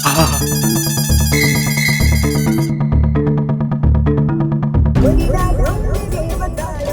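A phone rings with a loud, repeating electronic melody of bright tones in a steady looping pattern, which gives way to a noisier, jumbled passage near the end.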